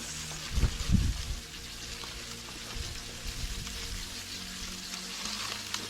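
Pastrami and egg cook in a pan with a steady sizzle, opening with a few louder clattering bumps before settling into an even frying hiss, and no voices.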